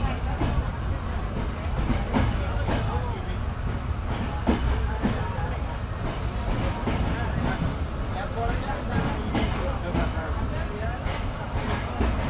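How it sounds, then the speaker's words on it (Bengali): The Drotojan Express, a passenger train on the Panchagarh–Dhaka route, pulling out of a station, heard as a continuous rumble with rhythmic wheel clatter and occasional sharp clanks, with voices faintly present in the background. "আবার শুরু করলো ট্রেন যাত্রা তার নিজ গন্তব্যে।"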